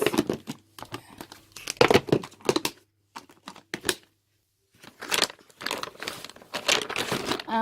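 Scrapbooking papers and plastic packaging crinkled and handled while packing kits, bursts of crisp rustling and crackling separated by short quiet pauses, close and fairly loud.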